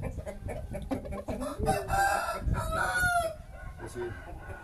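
A strong rooster of Malay blood crows once in a rising, drawn-out call, fairly close and loud, with faint background noise and clucking around it.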